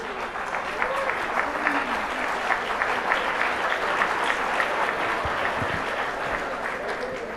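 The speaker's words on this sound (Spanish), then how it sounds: "Ya te aplauden sin que respondas" A presidential debate audience at a Honduran university applauds steadily throughout, dense sustained clapping from a large room with faint voices mixed in.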